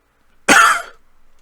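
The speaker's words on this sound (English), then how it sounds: "there goes the cough" A single harsh cough from someone with a worsening cold bursts out close to the mic after near silence, then trails off into quiet.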